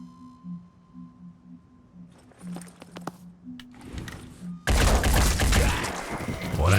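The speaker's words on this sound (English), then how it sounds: "Do I have enough juice to fire again?" Gunfire in the video game Phoenix Point: soft electronic tones and a few sharp hits give way to a loud, sustained burst of rapid shots that runs to the end.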